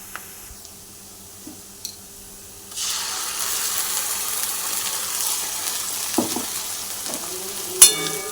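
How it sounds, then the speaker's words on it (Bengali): Fried onions in a pan are stirred with salt, turmeric and Kashmiri chili powder; quiet clinks come first, then a loud sizzle rises and continues with scraping and knocks near the end. "ভালো করে নেড়ে নেড়ে লবণ হলুদ কাশ্মীর লঙ্কা গুঁড়ো দিয়ে দেবো"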